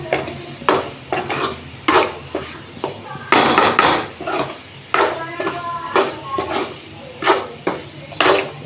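Fried meal maker soya chunks go into a pan of tomato masala and get stirred, with repeated scraping clanks of a spoon against the pan over a light sizzle, loud and close.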